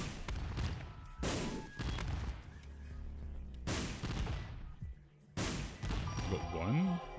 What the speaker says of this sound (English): I got 8 bombs, so I might as well use them.